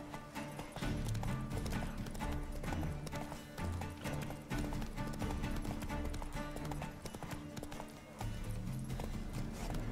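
Roach, a horse in The Witcher 3, gallops with steady rhythmic hoofbeats, a close, continuous clip-clop carrying on over game music and ambience.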